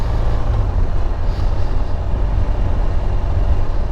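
A 2018 BMW RT-LTD police motorcycle riding along gently, its engine giving a steady, smooth, loud low hum mixed with rushing road and wind noise, with no pauses.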